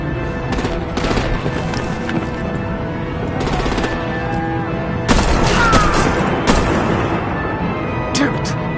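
Heavy artillery and gunfire barrage in a Batman video game battle, sustained rumbling booms with sharp bursts and a loud salvo of blasts midway, continuing under game voices.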